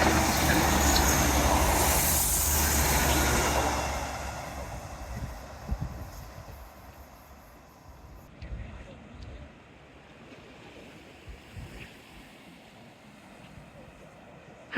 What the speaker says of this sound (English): Happy train into the tunnel.